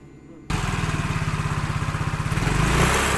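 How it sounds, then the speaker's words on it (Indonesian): A Yamaha Mio J motorcycle engine, on a bike with a battery that keeps draining, catches abruptly after a brief quiet moment and settles into a close, steady pulsing idle that rises slightly near the end. "Coba kita hidupkan. Hidupkan motornya."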